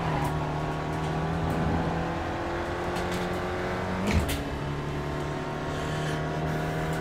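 Spec Racer Ford race car engine at Daytona, a loud onboard buzzing drone with steady throttle, a brief dip and blip around a downshift, then holding a high steady pitch.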